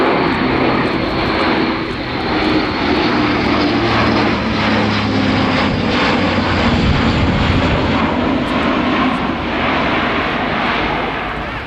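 At the RIAT 2018 airshow, an Airbus A400M Atlas military transport aircraft makes a short-field takeoff, lightly loaded. Its propeller turboprop engines give a loud, sustained, powerful roar that holds steady throughout.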